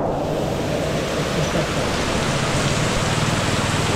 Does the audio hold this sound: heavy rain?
yes